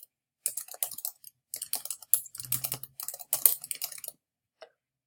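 Keystrokes on a computer keyboard as a new password is entered, bursts of quick clicking taps in short irregular runs with brief pauses, close and clear with no talking.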